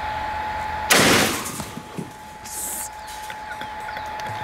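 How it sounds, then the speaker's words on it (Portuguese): A 12-gauge shotgun fires a single loud blast at a helmet target set against wood, with a sharp onset, a decaying tail and faint clatter afterward. "Agora vamos dar tiro de 12 e depois um jeito naquele capacete."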